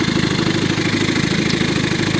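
A 1953 Elgin 5.5hp outboard motor idles in neutral with a steady, loud, even chugging pulse that carries on without break.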